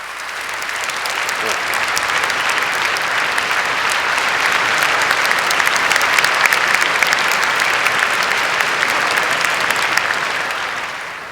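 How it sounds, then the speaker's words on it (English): Audience applause at a public mathematics lecture, a dense, loud, steady clapping from a large crowd that swells and holds for about ten seconds before easing off. "yeah, well, go ahead, clap."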